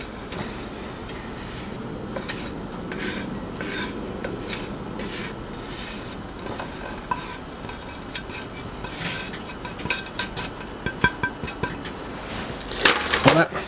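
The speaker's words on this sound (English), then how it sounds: "give them a good mix around so it's all combined well" Dry spices and salt for a KFC-style chicken coating stirred together in a mixing bowl, giving a steady scraping, rasping rub with light clinks against the bowl that build into sharper knocks near the end.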